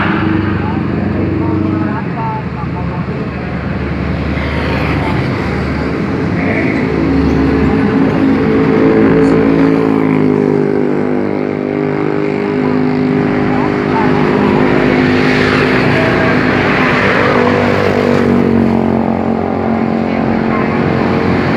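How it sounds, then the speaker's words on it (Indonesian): Busy traffic of many cars near a dock keeps up a steady, loud engine rumble and road noise throughout, with voices mixed in the background. "Mobil pirang-pirang."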